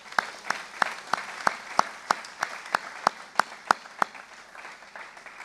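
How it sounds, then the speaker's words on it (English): A graduation celebration for student-athletes fills with steady applause, a dense wash of many hands clapping with a few sharp, regularly spaced louder claps standing out, fading toward the end. "Let's give yourselves a hand."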